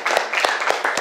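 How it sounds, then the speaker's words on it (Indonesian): Classroom applause for a student named Sally after her presentation, a steady patter of many hands clapping together through the whole moment, close and fairly loud. "Oke, tepuk tangan buat Sally."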